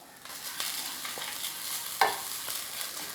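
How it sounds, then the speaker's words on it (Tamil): Grated coconut roasting with sambar masala in a dry pan, quiet rustling scrapes of stirring with a brief louder clink partway through, close and without voices. "இப்போ இந்த தேங்காயும் சேர்த்து வறுத்துக்கலாம்."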